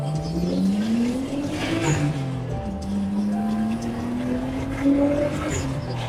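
A Nissan R32 Skyline driving in Tokyo, its engine note rising and falling through gear changes over steady road noise, heard from close by with no talking.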